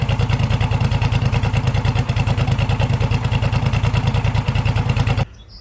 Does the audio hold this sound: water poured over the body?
no